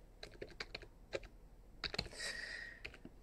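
Typing a command on a computer keyboard in a Linux terminal, a quiet run of separate key clicks with short bursts and pauses, close and alone with no talking.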